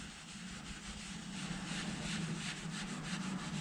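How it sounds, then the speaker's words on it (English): A sponge rubs leather cleaner into a leather car seat to lift tire mark stains, giving a steady, close scrubbing swish that continues without pause and without talk. "The way we apply this product is we just get a little bit on sponge and just rub it in."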